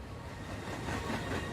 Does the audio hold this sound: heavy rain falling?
no